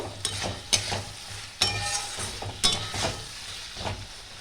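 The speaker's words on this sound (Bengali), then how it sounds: "আলুগুলো একটু আমি নাড়িয়ে চাড়িয়ে নেব।" Potatoes fry in a pan for a fish-head potato curry while a spoon scrapes and stirs them, several distinct scraping strokes and light clinks over a continuous sizzle, no talking.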